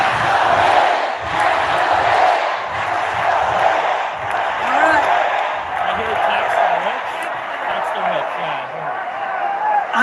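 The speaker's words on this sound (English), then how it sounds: "This is the crowd chanting at Kathy Hochul to tax the rich" A large crowd chants 'tax the rich' at Kathy Hochul, rhythmic massed voices and shouting filling the space continuously with a loud, reverberant roar.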